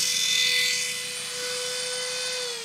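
Dremel rotary tool cutting through a 2020 YT Capra bike dropper cable, a loud, steady high-pitched whine that holds close and constant, then dips slightly in pitch near the end, with no voices.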